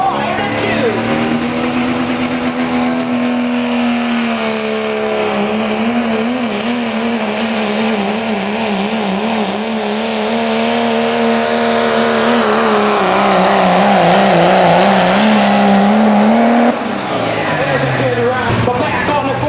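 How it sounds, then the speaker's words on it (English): A 1995 Dodge Ram diesel pulling truck named All Attitude roars loud and close at a limited pro diesel truck pull in Oak Harbor, Ohio, its engine note wavering and climbing over the long pull, with a voice over it. "Ladies and gentlemen, a 95 Dodge Ram. It's called All Attitude."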